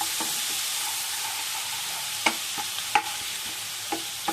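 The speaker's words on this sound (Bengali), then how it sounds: "বাটারটা মেল্ট করে নিই। এর মধ্যে দিয়ে দিচ্ছি রসুন বাটা দিচ্ছি।" Garlic paste sizzles in melted butter in a pan, a steady close hiss with a few light clicks and taps of a spoon stirring, no voices.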